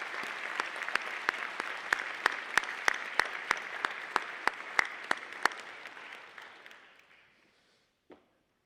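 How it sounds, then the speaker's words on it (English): An audience round of applause at a community recognition event, steady and fairly close with a few sharp individual claps standing out, fading away near the end before one last faint clap. "I'd ask that we all give her a round of applause"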